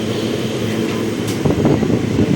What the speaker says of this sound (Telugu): ఆల్మోస్ట్ ఇంకొక 2 మినిట్స్లో తిరుపతి రైల్వే స్టేషన్లోకి అయితే వెళ్ళిపోతుంది మన ట్రైన్